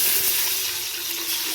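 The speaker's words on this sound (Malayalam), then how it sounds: "നമുക്ക് 6 ഗ്ലാസ് വെള്ളം ഒഴിച്ചു കൊടുക്കാം" Water poured from a glass into a cooking pot for kada biryani rice, a continuous close splashing gush with a faint ringing tone, no talking.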